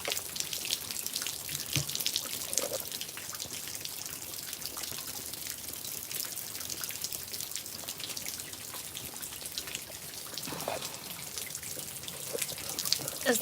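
Steady rain mixed with sleet and snow falls outdoors in cold weather, a dense continuous patter and hiss with no distinct breaks, fairly faint and even throughout.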